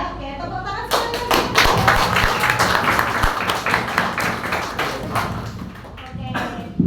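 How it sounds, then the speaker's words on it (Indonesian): Students in a sixth-grade class at an elementary school break into lively clapping, a dense patter of many small hands that fades toward the end, with voices mixed in. "Oke, tepuk tangan sekali."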